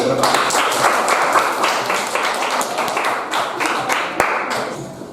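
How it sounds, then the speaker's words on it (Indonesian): A class claps together in a room, a steady wash of many hands for about five seconds, fading slightly toward the end. "beri tepuk tangan untuk Bapak ini"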